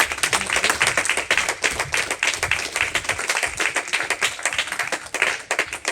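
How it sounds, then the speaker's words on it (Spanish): A church congregation claps in a quick, fairly regular rhythm, many hands striking together in a steady pulse of sharp claps that continues for several seconds. "¿Cuánto le dan un aplauso fuerte al Señor?"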